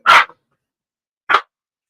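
A dog playing with a puppy gives two sharp, loud barks about a second apart, close by, with silence between and after them.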